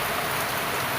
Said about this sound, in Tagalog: wag na po sanang lumakas yung ulan